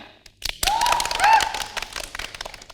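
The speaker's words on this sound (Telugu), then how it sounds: "క్లాప్స్." An audience at a stage comedy show breaks into a burst of clapping after a short quiet, holding strong for about a second before thinning into scattered claps.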